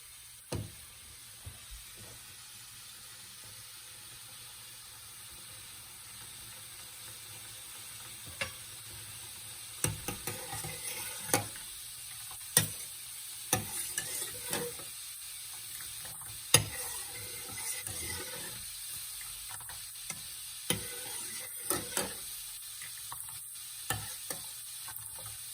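Spices simmering in water for masala chai, a soft steady bubbling hiss with scattered ticks and clinks from the pot building over the course of the clip.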